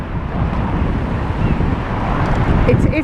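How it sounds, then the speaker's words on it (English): Steady wind buffets the microphone on a seaside promenade at Blackpool on a windy afternoon, a continuous broadband rush with a faint hint of surf beneath. "As you can probably hear, it's a windy afternoon on Blackpool Prom"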